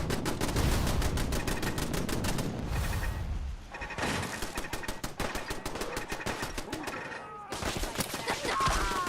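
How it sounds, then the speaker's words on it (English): Rapid automatic gunfire rattles from the video game Fallout in dense, loud bursts, pausing briefly before the shooting resumes. "who's shooting?"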